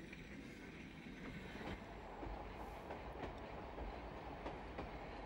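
A train rumbles along a railway, steady low roar with faint rhythmic clacks of wheels on track, continuous and fairly distant.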